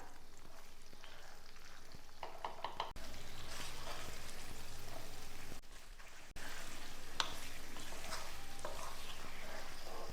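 Halved grapes get stirred into a dates pickle in a pan, with a soft continuous sizzle and wet stirring scrapes close by, broken by two short gaps.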